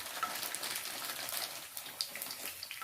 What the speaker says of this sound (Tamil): பாத்திரத்தில் பாதாம் ஊற வச்சு ஸ்கின்னை ஆஃப் பண்ணியிருக்கேன், அதை ஃப்ரை பண்ணிக்கலாம்.